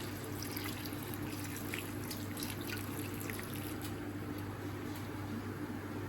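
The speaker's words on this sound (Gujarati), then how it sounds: "એની ઉપર થોડું ઠંડુ પાણી નાખી દઈશ" A quiet, steady stream of cold water runs and splashes over noodles in a sieve for several seconds, a soft continuous rush with no talking.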